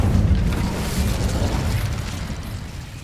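An Incendio fire spell cast in Hogwarts Legacy gives a deep, sustained whooshing boom that rumbles loudly and then fades slightly over a few seconds.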